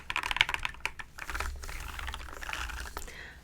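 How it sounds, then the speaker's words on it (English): Typing on a RoyalKludge mechanical keyboard fitted with new keycaps: a steady run of close, crisp key clacks, busier at the start, with no talking. "This is my first ever keyboard. It is the RoyalKludge, but with my newest keycaps."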